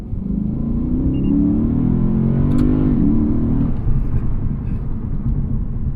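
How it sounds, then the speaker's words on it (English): The deep V8 engine of a 2020 Lexus RC F Track Edition rumbles steadily and revs up and down, a loud, close throaty drone with no talking. "This V8 sounds great."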